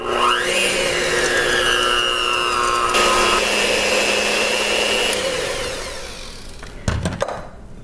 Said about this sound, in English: So I've got my mixer here. It's just a hand mixer. I'm going to cream all this up till it's nice and fluffy